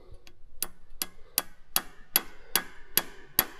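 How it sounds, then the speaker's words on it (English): A brass hammer tapping a dowel pin into a Cummins 6BT 5.9 12-valve diesel engine block: nine sharp, metallic taps in a steady rhythm about 0.4 seconds apart, close and clear with no talk. "Tap it in with your brass hammer a little bit."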